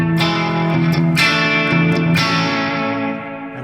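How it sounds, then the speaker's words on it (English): A soloed electric guitar track from a 1968 Gibson Les Paul Custom in a studio: sustained, distorted chords with effects, a few picked changes, loud, steady and alone without voices. "let me activate the guitar I have right now by soloing it."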